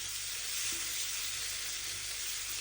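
Green plantain sambal paste being stirred in a hot pan gives a steady, soft sizzle and hiss that runs evenly throughout, close and unbroken, with no voices.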